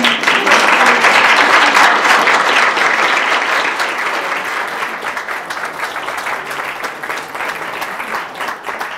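An audience breaks into sustained applause welcoming a linguist from NYU to the stage, dense clapping loud at first and gradually thinning over nine seconds, with no voices over it.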